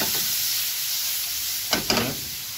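Seafood seasoned with salt and pepper searing quickly in a hot pan makes a steady close sizzle, with a couple of brief louder bursts of crackle as the pieces are turned.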